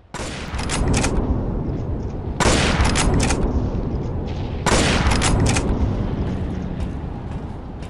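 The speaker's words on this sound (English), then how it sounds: "someone's shooting at me" Gunfire in World War Heroes rattles out in three loud, sustained bursts of rapid shots, each beginning with a sharp crack and rolling on without pause.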